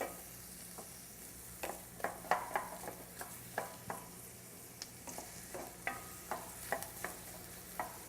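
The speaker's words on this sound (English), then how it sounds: "we have onion, garlic, and green apple cooking here" Onion, garlic and green apple cook gently in a pan, a soft low sizzle punctuated by a run of distinct spoon-stirring taps and scrapes at irregular intervals, close and fairly quiet with no talking.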